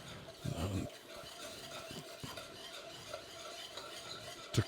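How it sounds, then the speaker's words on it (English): Flour is stirred in a pan for turkey gravy, producing soft scraping and rubbing strokes in an irregular rhythm, quiet and close, with a few louder knocks. "Now, it's very important that you continue to stir this"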